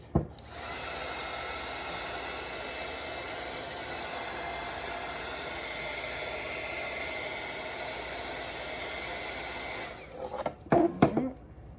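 A heat gun blows hot air over vinyl on an epoxy tumbler, producing a steady, close whooshing hiss that cuts off near the end, followed by a few light handling knocks.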